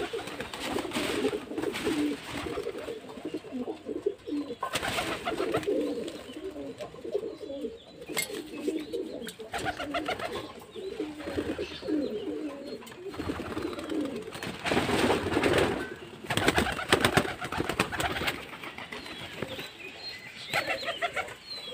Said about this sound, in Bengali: তা চলুন কথা না বাড়িয়ে এবার পায়রাগুলোকে ছাড়া যাক।